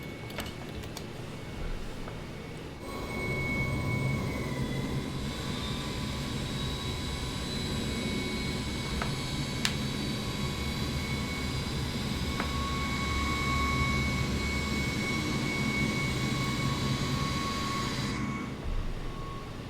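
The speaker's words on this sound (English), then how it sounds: "We have a good start in engine number 3, starting engine number 2." Engine number 3 of an Avro RJ100 jet airliner spools up during a winter start, a rising turbine whine and roar building after a quiet opening and holding steady, with tonal whistles above the rush of air.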